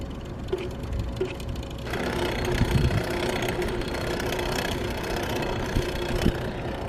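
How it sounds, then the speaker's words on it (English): Bicycle cranks on an upside-down Cannondale F300 hybrid spin freely, making a continuous low whirring and ticking drivetrain sound with faint periodic clicks, close and moderately loud throughout. "This is how the cranks are supposed to spin on an upside down bike."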